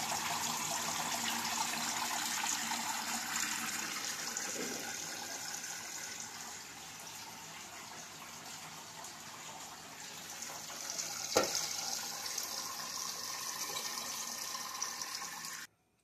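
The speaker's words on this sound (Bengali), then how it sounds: "এখানে আমার কুলার থেকে খুব সুন্দরভাবে জল পড়ছে" Water pours steadily from an air cooler running with a newly replaced water pump, a continuous close splashing trickle with one brief knock partway through.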